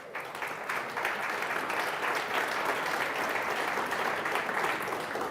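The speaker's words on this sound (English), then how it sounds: "Big round of applause" An audience at an evening CEO talk event gives a big round of applause for the lead sponsor, Scotiabank; sustained, even clapping from a large crowd that carries on throughout.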